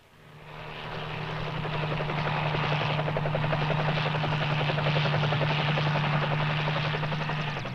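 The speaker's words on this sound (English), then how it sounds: "Stan and I followed the cheetahs to Kruger, arriving by helicopter" A helicopter arriving, its rotor thump and turbine whine swelling up from quiet within the first second and then holding steady and loud with a rhythmic chopping pulse.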